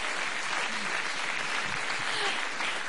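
Steady applause from an audience honoring a tailor who measured Jokowi for his presidential inauguration, continuous dense clapping at moderate volume with no speech over it.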